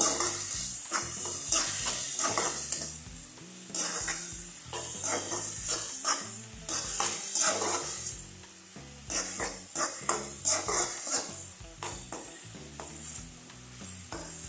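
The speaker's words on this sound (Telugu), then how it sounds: "ఉల్లిపాయలు బాగా వేయించాలండి, పచ్చవాసన పోయేంత వరకు" Onions frying in a pan for aloo pepper curry, a steady close sizzle broken by repeated scraping and stirring of a spatula against the pan, with no voices.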